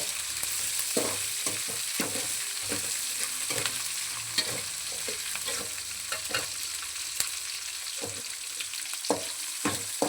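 Chopped green chillies fry for upma under a soft, steady sizzle, punctuated by frequent, irregular scrapes and taps of a spatula against the pan, close and without talk.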